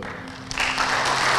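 Applause at a short film festival award night, starting as a thin patter and swelling into a fuller burst of clapping from the audience partway through, after a brief hum.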